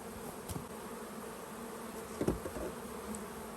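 Honey bees driven out of a hive super by a fume board give off a soft, steady, close buzzing hum, swelling briefly as individual bees pass near.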